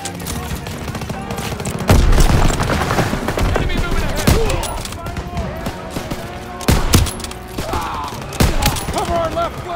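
Dense wartime gunfire from a World War II Call of Duty battle, with rapid machine-gun bursts and heavy blasts that spike loud near the start and again midway, while shouting voices carry through the combat.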